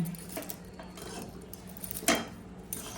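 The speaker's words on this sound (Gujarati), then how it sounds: "આ રીતે હવે મિક્સ કરીશું બે હાથનો યુઝ કરું છું" Chinese bhel is mixed by hand in a metal bowl, giving soft irregular clinks and scrapes with one sharper clatter near the end, fairly quiet and close.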